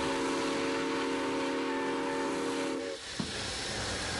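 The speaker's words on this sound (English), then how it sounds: "I got to pull the whistle more than once" Steam whistle of a 1923 steam locomotive on the Grand Canyon Railway, running on vegetable oil, blowing a loud sustained multi-tone chord for about three seconds over a steady hiss of steam, then cutting off with a brief thump.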